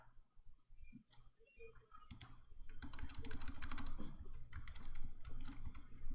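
Typing on a computer keyboard: a few scattered, quiet key taps at first, then a quicker, busier run of clicking keystrokes that grows louder and denser toward the end, close to the microphone.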